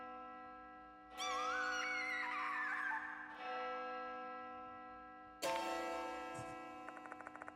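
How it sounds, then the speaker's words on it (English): A clock tower bell rings in a video game, two loud resonant metallic strikes several seconds apart, each with a long humming decay over a low ambient drone and quick ticking near the end. "The bell is ringing."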